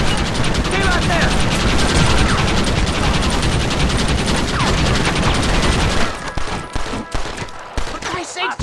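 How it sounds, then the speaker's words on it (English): Sustained machine gun fire in the video game Red Dead Redemption, a dense loud roar of rapid shots for about six seconds that cuts out into scattered sounds while people talk. "Why are they all shooting at me?"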